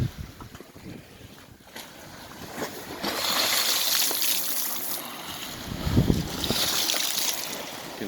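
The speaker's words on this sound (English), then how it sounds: "can see that the waves will overtop the wall" Waves wash and break against a sea wall, with a steady roar of surf and wind rising in surges.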